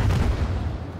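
Naval guns firing aboard a warship in World of Warships, a dense continuous rumble of booming low-frequency blasts that roll into one another, loud and close throughout the short stretch.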